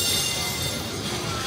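A tram rolls slowly along a street in Portugal, giving a steady, broad rumble with a faint high metallic squeal from the wheels, continuous and fairly close.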